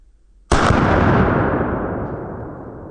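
One loud, close .357 Magnum revolver shot fired with Winchester ammunition, a sharp crack followed by a long, slowly fading echo, with no other sound around it.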